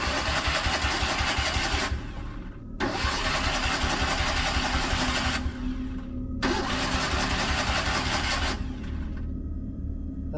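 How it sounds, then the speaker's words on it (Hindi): A car engine cranks in three long, loud bursts separated by brief pauses, as if repeatedly failing to catch, with steady rain-like noise running underneath. "खुद ड्राइव करने के लिए गाड़ी स्टार्ट करता है।"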